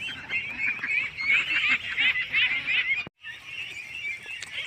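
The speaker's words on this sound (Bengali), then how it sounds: "দেখছেন এই যে হাঁসের মেলা" A large flock of domestic ducks calls in a dense, continuous chorus of overlapping quacks and honks, fairly close and loud, with a brief break near the end before the calling resumes.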